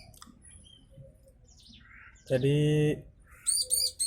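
Ciblek bird chicks, three newly hatched in a nest, give a short burst of loud, close chirping, then a few quick high calls near the end, over a faint background.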